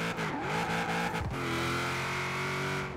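A Cadillac XTS Limo drifting in Forza Horizon 4, its engine droning steadily with pitch swoops and a sharp dip and rise as it slides, with no voices.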